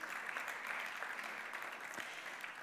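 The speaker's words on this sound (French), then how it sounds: "on peut les applaudir pour ce premier argent ex-aequo" Faint, steady audience applause at a French advertising awards ceremony, a short continuous patter of clapping heard from a distance.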